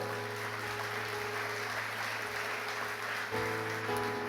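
A church congregation gives a continuous round of applause offered to the Lord, a soft, even wash of many hands at a distance over a sustained hum, with a low tone shifting briefly near the end.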